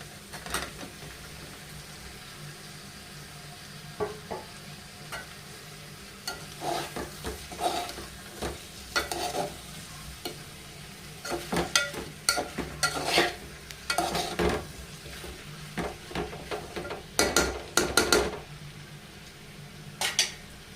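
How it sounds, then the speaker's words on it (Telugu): Taro roots fry in a pan for a village-style curry, with a steady low sizzle under repeated scraping and clinking of a utensil stirring against the pan, growing busier toward the end. "ఇప్పుడు ఇలా వేగిన తర్వాత నేను ఈ చామదుంపలు వాటిని కూడా వేసేస్తున్నాను"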